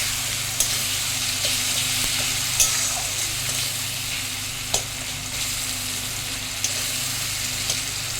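Onion fries in a pan for a quick fish curry, giving a loud, constant sizzle with a few sharp scrapes and taps of a spoon against the pan.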